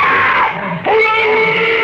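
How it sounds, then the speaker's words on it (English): Screams ring out in a radio drama, loud high-pitched cries from children in a nursery, one long wavering scream fading, then a second sharp rising shriek that holds steady. "Those screams. They sounded familiar."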